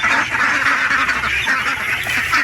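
Ducks (itik) in a pen give nearby quacks that overlap into a loud, rapid, continuous chorus with no let-up.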